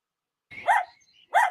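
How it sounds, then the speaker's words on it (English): A dog gives two sharp barks about a second apart, the first trailing into a brief whine, close and fairly loud against otherwise quiet surroundings. "Dog."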